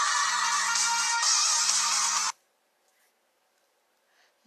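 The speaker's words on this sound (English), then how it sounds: "sorry about that, I'm getting the phone call." A phone rings for an incoming call, with two bursts of a bright electronic tone and a low pulse beneath, then cuts off abruptly into near silence.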